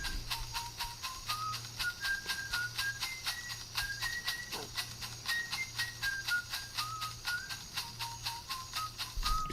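Recorded Amazonian ceremonial music: a high whistled melody rising and falling over steady rhythmic shaking of rattles, with a low sustained drone underneath, played at moderate volume.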